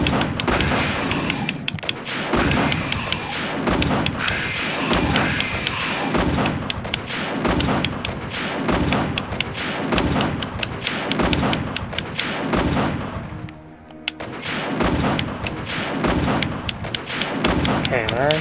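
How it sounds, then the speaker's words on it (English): Rocket launcher blasts in the Resident Evil video game fire in a fast, regular string of sharp booming shots, loud and continuous, with a short lull before the firing resumes. "So, get my trusty rocket launcher"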